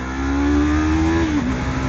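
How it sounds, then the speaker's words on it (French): A 2023 Yamaha YZF R3 motorcycle engine revs steadily, its tone rising slightly and holding before dipping briefly, with a whooshing layer of wind noise around it and no talk. "j'aime la sonorité du moteur avec un pot d'échappement"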